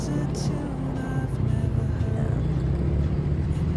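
Trucks passing on a mountain road in the Cordillera, a continuous low engine rumble close by, steady and unbroken with faint higher tones over it.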